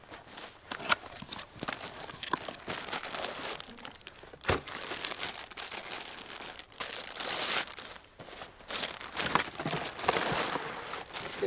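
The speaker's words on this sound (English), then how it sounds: "So let's go ahead and unbox them." Close, steady crinkling and crumpling of packaging as camping chairs are unboxed, with brief rustles and a sharp tear-like burst near the middle, continuing without pause.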